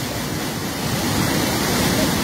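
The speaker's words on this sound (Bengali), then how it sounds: "জালালাবাদের বাঁধ ভেঙে প্রচণ্ড পানি ঢুকতেছে" Floodwater pouring through a broken embankment at Jalalabad in Habiganj after two days of heavy rain, a loud steady roar of rushing water that continues unbroken, close and dense, with no talking over it.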